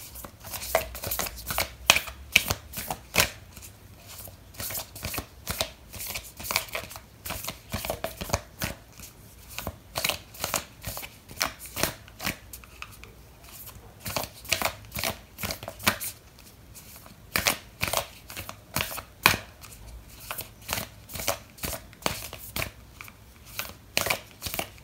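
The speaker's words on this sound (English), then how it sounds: "I'm going to pull out an oracle card for you" A deck of oracle cards is shuffled at a tarot reading, giving repeated riffling and flicking bursts in uneven rhythm, close and moderately loud, without any voices.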